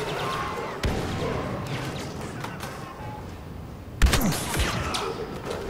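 Blaster gunfire in the Star Wars Battlefront video game, two sharp shots about three seconds apart over a low background of game ambience.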